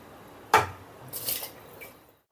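Soaked biryani rice goes into a pot of boiling water for mutton biryani, with a sharp clank of a utensil against the pot followed by a brief watery splash and bubbling that fades to silence.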